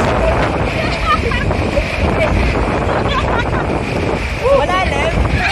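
Strong waves surge continuously at a river sanctuary in Maragondon, loud and close, with heavy wind buffeting the microphone and faint voices and calls mixed in.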